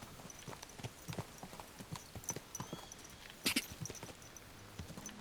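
Horse hooves clip-clop in the medieval game Kingdom Come: Deliverance II, a steady walking rhythm of close, crisp thuds, briefly louder in the middle.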